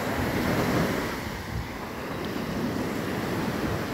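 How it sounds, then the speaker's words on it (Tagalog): Ocean surf washes onto a seashore just after Typhoon Tino, with steady rolling wave noise and wind carrying on continuously at a moderate distance, and no voices. "Dito tayo ngayon sa tabi ng baybay."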